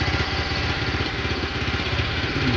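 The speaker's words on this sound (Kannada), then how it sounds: "ಯಾವುದೇ ಒಂದು ಸೂಪರ್ ವೆಹಿಕಲ್ಗೆ ಬರ್ತಿರುವಷ್ಟು ಸೌಂಡನ್ನು ಈ ಸ್ಕೂಟಿಯಲ್ಲಿ ಕೂಡ ಕೊಟ್ಟಿದ್ದಾರೆ" A TVS Ntorq Race XP scooter engine runs close by at a steady idle, giving a loud, even, throbbing putter throughout.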